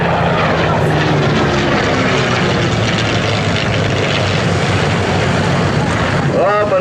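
A Curtiss P-40 Tomahawk/Kittyhawk fighter plane drones loudly with a steady propeller engine roar while performing a victory roll at a World War II airshow, and a voice speaks over it.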